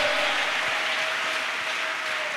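Church congregation applauding: dense, sustained clapping from many people at an even level for the whole stretch, with a faint steady tone beneath it.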